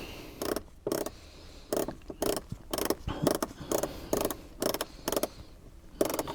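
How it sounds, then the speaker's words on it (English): A ratcheting screwdriver clicks out a screw from a 2003 Hyundai instrument cluster, in a string of short, close ratchet bursts with brief pauses between them and no talk. "So basically, remove the screw."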